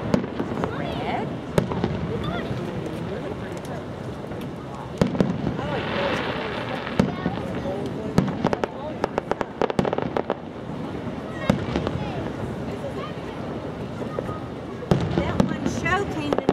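Festival fireworks burst in repeated sharp cracks and booms, some clustered in quick crackling runs, over a steady roar of crowd noise with people talking throughout.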